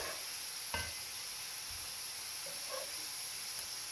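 Strips of lamb doner meat sizzling in a buttered pan or griddle, producing a steady, bright frying hiss that runs throughout with a few faint clicks, close and even.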